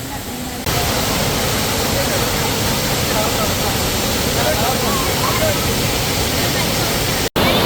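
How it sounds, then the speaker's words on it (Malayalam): The Meenmutty waterfall at Tholukuzhi in Kerala gives a loud, continuous roar of falling water. The broadband rush fills the whole clip without pause, with only a brief dropout near the end. "ഇതാണ് പ്രശസ്തമായ തൊളുക്കുഴിയിലെ മീൻമുട്ടി വെള്ളച്ചാട്ടം"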